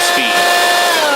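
Hoover Quik Broom Encore S2551 two-speed stick vacuum on its high setting, a loud steady motor whine up close, with a brief voice over it at the start.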